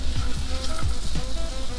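Boiled, mashed potatoes for samosa filling sauté in a pan with a continuous close, fairly loud sizzle and faint soft stirring, no voices.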